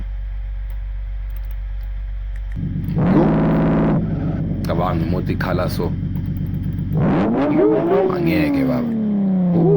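A car engine in the game Live for Speed 0.6R idles, then revs up and drops back while someone briefly speaks, followed by a rising and falling engine whine.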